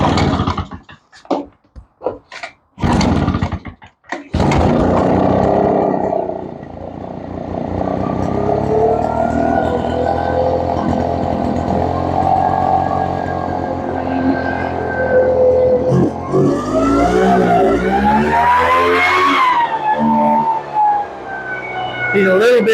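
Gas backpack leaf blower engine sputtering to life after fuel priming with choke on, a few rough bursts before settling into a steady loud drone that revs and wavers toward the end.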